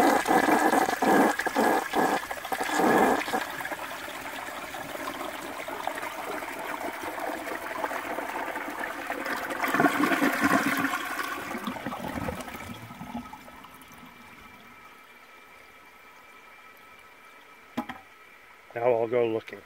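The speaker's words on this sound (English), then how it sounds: "I'm going to give this a flush with nothing else in it to see if the puffball comes out." A 1970 American Standard Cadet toilet flushes with a loud, rushing surge of water that slowly fades into quieter trickling and refill, followed by a brief clatter near the end.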